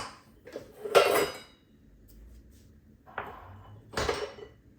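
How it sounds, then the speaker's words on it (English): Homemade drained yogurt is spooned into small pots, with clinking and scraping of spoon against containers in a few sharp, close knocks over quiet room tone. "Now I will put in the small pots."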